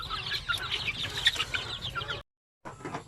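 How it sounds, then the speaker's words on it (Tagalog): Native Basilan and Zamboanga chickens cluck and chatter busily at close range in a farm pen, a dense flock sound with a short gap near the end. "para ma-check natin yung ating mga manok"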